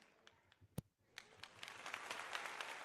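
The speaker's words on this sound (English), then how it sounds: "We get a goddamn round of applause." A single sharp clap, a brief lull, then scattered claps building into a steady round of applause from a crowd, faint and somewhat distant throughout.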